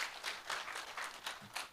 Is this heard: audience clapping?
yes